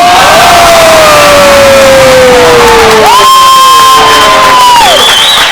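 A packed crowd at a men's futsal grand final on the Gold Coast roars and cheers loudly and steadily after a goal, with whoops and shouts rising over the din and a sustained tone sliding through the noise.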